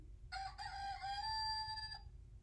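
A single rooster gives one drawn-out cock-a-doodle-doo during a farm-themed library storytime. The crow is clear and mid-distance and lasts under two seconds over a low background hum.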